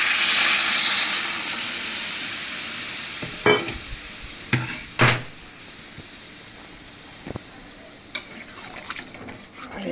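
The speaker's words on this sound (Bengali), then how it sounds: "এবার আমি এর মধ্যে দিয়ে দিচ্ছি জল, যে জলটা আমি গরম করে রেখেছিলাম সেই জলটা দেবো" Hot water poured into sizzling masala for a vegetarian potato, pointed gourd and taro curry sends up a loud hissing rush that fades over a few seconds, followed by scattered utensil clinks and a quiet simmer.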